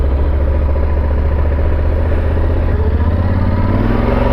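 A Kawasaki 650R motorcycle riding along quiet weekday residential streets, its engine a steady close drone with a slight rise in pitch toward the end, with no talk over it.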